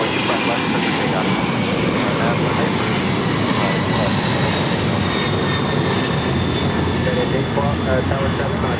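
Jet airliner engines roar steadily and loudly during takeoff at LAX, a broad continuous rumble with a high whine on top that holds without a break.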